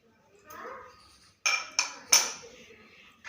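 A spoon stirring cardamom and dry ginger powders in a dish, heard as three sharp metallic clinks after a soft, quiet scraping, with a little talk nearby.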